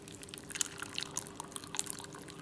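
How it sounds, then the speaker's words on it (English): Water pours into a saucepan of chopped apples sprinkled with cinnamon, a soft, quiet continuous trickle and splash close by. "Now we're going to put in some water."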